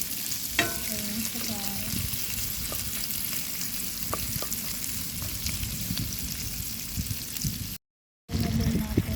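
Onion frying in butter in a pot: steady soft sizzle throughout with a few clinks of stirring, briefly cut out near the end, while a voice speaks quietly.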